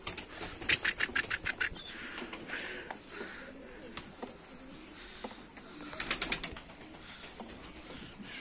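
Antique-breed pigeons coo softly in a loft while wings flap in quick bursts nearby, with scattered clattering and rustling in between.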